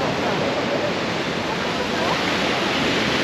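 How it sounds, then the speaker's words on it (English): Large waves crash on a windy beach in Santorini, a loud continuous roar of surf and wind filling the whole stretch without pause. "waves are huge and like really like windy."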